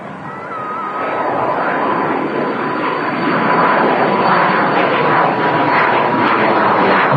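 A Jet2 Boeing 757-200 departing Manchester Airport for Ibiza, its jet engines producing a loud, continuous roar that builds slightly and holds steady up close.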